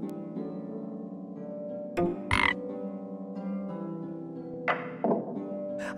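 A cartoonish toad croaks in the video game Storyteller, a low sustained croaking tone broken by a few sharp thunk-like hits and bright flourishes.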